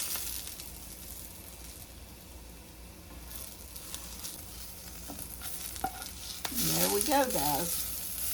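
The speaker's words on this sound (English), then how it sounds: "my potatoes are getting real brown, so I need to go ahead and get them up" Browned potatoes sizzle steadily in a hot frying pan for a Southern fried potato dish with a spicy twist, with scraping stirs throughout and someone speaking briefly near the end.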